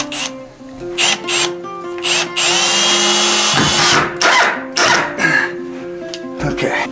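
A cordless drill drives temporary screws into a cabin door frame on the strike side, in short loud whirring bursts with pauses, close by, with a cough or throat clearing between runs.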